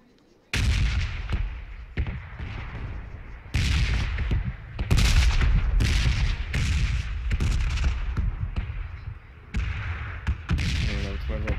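Winchester rifle shots in the video game PUBG, loud sharp reports at irregular intervals over a constant background of game noise and other gunfire.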